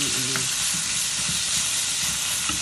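Beef stir fry sizzles and crackles loudly in a hot pan, a dense continuous frying hiss with occasional stirring clatter, heard close up.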